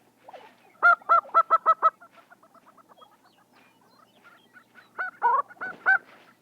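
Lesser prairie chickens call on a springtime dancing ground in shortgrass prairie in the southern Great Plains, giving rapid bursts of clucking, honking notes in quick runs with softer gobbling between them, near and clear.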